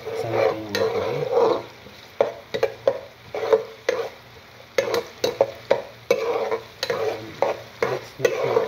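Garlic sizzles in a hot pan for chicken sotanghon while a utensil stirs and scrapes it, giving repeated sharp clinks and scrapes over a steady frying hiss, close and fairly loud, with no talking.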